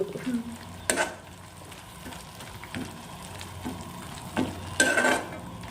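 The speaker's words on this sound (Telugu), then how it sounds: "ఆయిల్లో కొంచెం ఫ్రై చేసుకుంటున్నాను, కొంచెం పచ్చివాసన పోయేంత వరకు" Chicken pieces frying in oil in a pan for a home-style chicken fry, a constant crackling sizzle with periodic bursts of stirring as the spatula moves through the pan.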